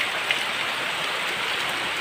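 Steady rain falls outside a bahay kubo, a native hut, in the Philippines, making an even, continuous hiss of drops on surfaces with no breaks, close and fairly loud.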